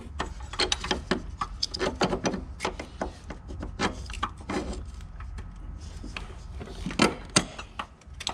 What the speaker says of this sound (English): Why don't you go ahead and jack up the trans right there?